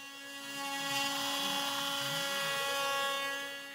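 A CNC machine cuts body and control cavities into an oak table top for a guitar, giving a steady whining drone with sustained tonal pitches that holds evenly throughout, with no talk.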